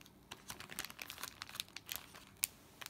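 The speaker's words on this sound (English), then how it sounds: "I hate all the crinkling that I'm doing" Plastic packaging crinkles and rustles in quiet, irregular bursts as items from a haul are unwrapped close by, with sharp crackling snaps scattered among softer handling noises.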